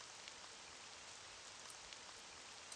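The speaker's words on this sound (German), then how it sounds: "Und es regnet." Steady, soft rain hisses evenly throughout a short stretch of a retro RPG Maker 2003 role-playing game, with no voices or other sounds over the constant patter.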